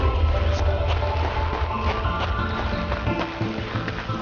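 Quick clip-clop of horse hooves trotting on hard ground in the video game Darksiders II, a steady rhythmic beat over a low rumbling backdrop, with a game-like, processed quality.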